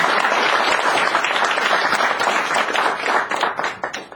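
Graduation ceremony audience applauding and cheering together, dense sustained clapping that fills the room and tapers slightly toward the end, no talking over it.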